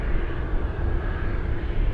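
Large airplane on final approach to Anchorage airport, a steady broad engine roar, loud and continuous with no distinct events, no talking.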